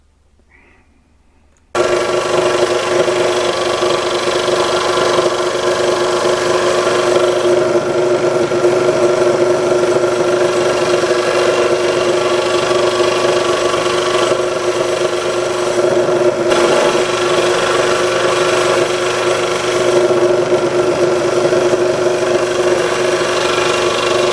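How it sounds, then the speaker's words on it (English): Scroll saw cutting star shapes out of wood, a steady loud motorized buzz with a constant blade hum that starts abruptly after a brief quiet moment and runs on without pause. "And now I'm on my scroll saw where I'm cutting each star out."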